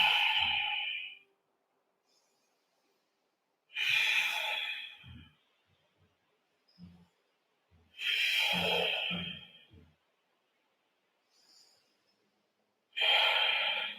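A person holding a yoga pose breathes deeply, four long audible breaths with sharp, gasping intakes and exhales, spaced a few seconds apart with quiet gaps between.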